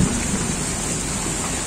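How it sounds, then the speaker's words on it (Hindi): Steady rain falling outdoors during a sunny shower, a dense continuous hiss with a low rumble underneath, heard alone at moderate loudness. "बाहर जाके कर पाते लेकिन बारिश हो रहा है"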